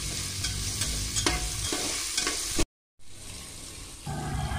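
Field beans (pavta) sauté in hot oil for masale bhat, a spiced rice dish: a steady, close sizzle with stirring scrapes and clatters, broken by one brief silent gap before the frying hiss resumes.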